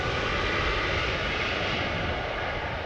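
An Air Baltic airliner departing Amsterdam Schiphol Airport gives a constant, broad jet engine roar, loud and unbroken throughout, with no voices.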